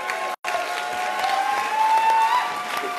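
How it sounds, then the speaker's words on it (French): Audience applause fills a packed hall at a Gilets Jaunes public meeting, a steady broad wash of clapping with a brief dropout near the start and faint whistling tones running through it. "vous pouvez vous applaudir vous-même tous d'être venus ici."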